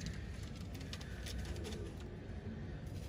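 Royal Teddy pigeons in a breeding loft with young chicks make soft, low cooing close by over a steady background hum, with no one speaking.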